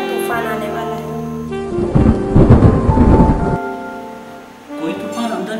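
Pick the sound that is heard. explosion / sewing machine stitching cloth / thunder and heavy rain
thunder and heavy rain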